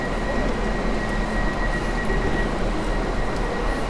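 Steady broadband rumble of a passing train in Poland, continuous and fairly loud throughout, with a faint high whine running over the noise and no talk.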